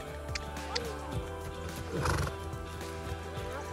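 A horse canters under a rider with rhythmic hoofbeats, and a whinny rises over them. Someone speaks briefly during the clip.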